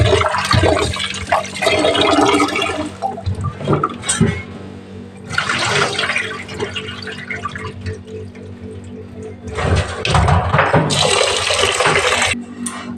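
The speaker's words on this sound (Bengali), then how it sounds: "দেখো চালটা ধুয়ে নিচ্ছি" Rice being rinsed by hand in water for a home-cooked meal, with several loud splashing, sloshing bursts separated by brief quieter pauses, close up and without talk.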